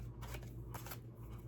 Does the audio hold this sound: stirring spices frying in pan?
no